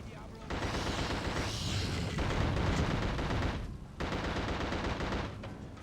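Sustained automatic gunfire in the horror shooter The Suffering, a dense, loud, continuous barrage of rapid shots with brief pauses, heavy and close.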